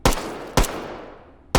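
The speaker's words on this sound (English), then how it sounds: "Why are you shooting him?" Gunshots from a rampaging bot in the VR shooter H3VR: three sharp, loud reports spaced roughly half a second and a second apart, each with a long decaying tail, no talk.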